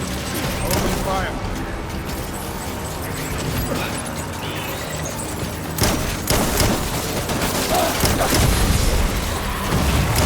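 Dense gunfire and explosions from a combat scene in the video game Death Stranding, loud and continuous with heavy booms, shouted voices mixed in.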